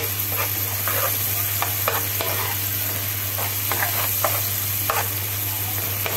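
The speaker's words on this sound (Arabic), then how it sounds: "هنا بحمر البصله زي ما احنا شايفين كده" Onions frying in a pan give a steady, dense sizzle throughout, close and constant, with occasional light scraping and stirring taps over the top.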